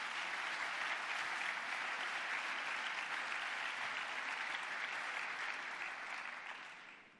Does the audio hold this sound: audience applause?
yes